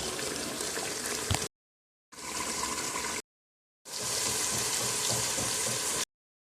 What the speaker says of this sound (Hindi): इसको हल्का सा पानी से लगा के एक दफ़ा फिर थोड़ा सा भुनाई कर रहे हैं